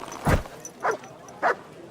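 A dog in Kingdom Come Deliverance 2 gives three separate barks about half a second apart, close and fairly loud over a quiet background.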